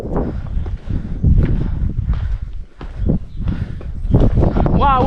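Strong wind buffets the microphone in loud, rumbling gusts, with rustling and scuffing movement throughout and a brief high squeak near the end.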